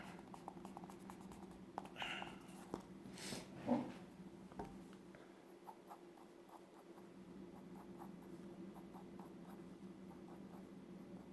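A pencil drawing of the Incredible Hulk on paper is rubbed with an eraser, giving soft close scratchy strokes in short bursts, loudest near the start and fading to quiet sketching afterward.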